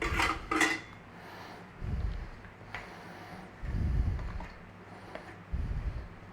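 Gelatin folded into lemon pie filling in a bowl, with a few scraping strokes and soft low swishes of a spatula against the bowl and light clinks of utensils, quiet and close, no talking.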